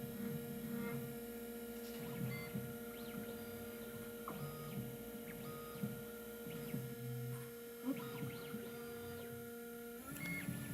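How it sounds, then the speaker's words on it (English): A Quattrocode D Series automatic key cutting machine works on a key, its faint steady motor hum carrying repeated stepping whirs and small clicks from the moving carriage, ending in a sharper mechanical clunk. "the machine is automatically going in the cutting, and then will automatically rotate the key"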